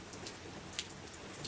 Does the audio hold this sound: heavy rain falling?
yes